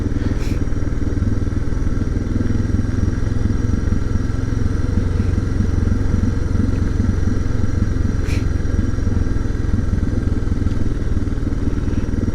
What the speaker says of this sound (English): Listen to that engine just chug along. I'm just basically engine braking.